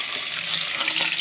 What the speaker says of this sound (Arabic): تعالي بقى حطينا حله اهي فيها سمنه، هننزل بالبصل